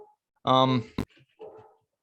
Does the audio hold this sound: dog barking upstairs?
yes